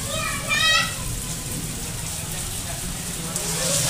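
Heavy monsoon-style rain falling in Nagpur, a steady dense hiss across the whole stretch, with a brief whistling tone near the start and faint voices mixed in.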